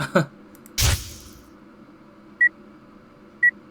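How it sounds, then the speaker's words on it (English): Two short electronic beeps from a bomb in the video game Zero Escape: Virtue's Last Reward ring out about a second apart over a low hum, following a brief burst of noise at the start. "Wait, is it beeping actually?"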